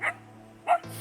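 Border collie dogs give two short, sharp barks about half a second apart, close and clear outdoors on a mountain trek in the Pyrenees.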